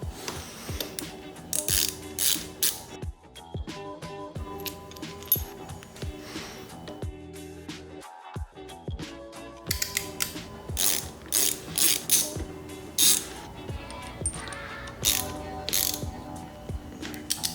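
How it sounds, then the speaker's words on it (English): Motorcycle lever ends are unscrewed to swap out the stock levers, giving rapid ratcheting clicks in repeated bursts with short pauses and metallic ticks between, close and moderately loud. "unscrew the ends right here, pull off these stock ones, get the new ones on there"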